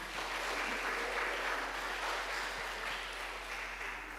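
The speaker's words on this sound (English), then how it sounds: "A good clap for our Dean." Audience applause at a university research conference on media and communication, a steady, even wash of clapping from a large hall that holds at a constant level throughout with no break.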